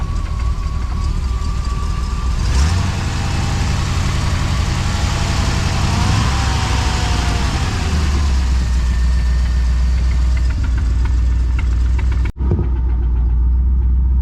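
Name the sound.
Honda Civic big block engine idling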